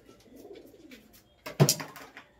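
Pigeons coo during vaccination, a soft low warbling coo followed by a louder burst of fluttering and scuffling near the end, close by with no talk.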